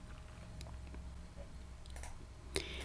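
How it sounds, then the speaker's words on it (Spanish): A computer mouse clicks during Python coding work, a few sharp, quiet, isolated clicks over a faint background hum, with no speech. "Daré un clic en el signo más para agregar una línea."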